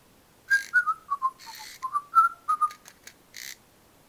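A sequence of short, chirpy electronic whistles from a Fingerlings toy baby monkey, rising and falling in pitch like a toy tune, close and clear with brief hissy bursts between.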